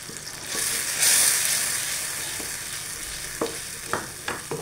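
Potatoes and tomato slices sizzle in a frying pan, a soft continuous hiss that swells briefly, then a few close scrapes and stirring clicks near the end; nobody speaks.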